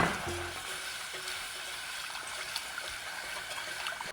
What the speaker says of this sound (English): I'm going to pour and whisk